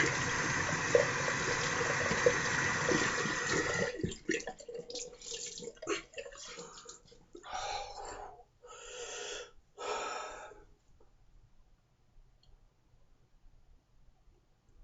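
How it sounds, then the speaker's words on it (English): Cold water runs from a tap as a rinse, a steady rushing stream for several seconds that breaks into short splashy bursts and drips before going quiet. "Cold water rinse."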